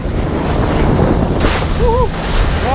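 Ocean surf and wind in Calanques National Park on the French Mediterranean coast, heard from a boat. Waves wash steadily and loudly under buffeting wind on the microphone, with brief whistling tones near the end.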